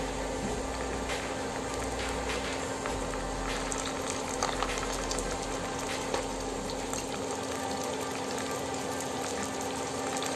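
Onions sizzling and frying in hot oil with ginger-garlic paste, a steady close crackling hiss with scattered pops running throughout, no talk.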